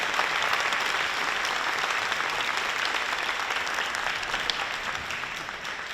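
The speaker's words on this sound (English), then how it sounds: "How about a round of applause for our LHS 2024 honorees?" Sustained applause from a full audience at a high school distinguished alumni ceremony honoring 2024 honorees, a dense, steady wash of many hands clapping that holds at an even, fairly loud level throughout with no speech over it.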